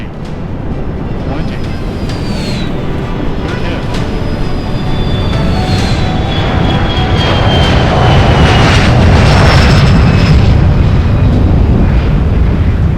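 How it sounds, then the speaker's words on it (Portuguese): An Air India airliner touches down fast on a runway with a loud, sustained engine roar and rumble and a slowly falling whine. A voice talks over it in places. "Em segundos, a aeronave aterrissou a uma velocidade muito alta."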